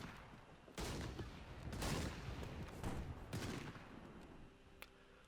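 Volleys of musket-style gunfire from a Napoleonic Wars mod of the strategy game Hearts of Iron IV: several dense, crackling bursts that swell and overlap over a steady battle din, with no speech.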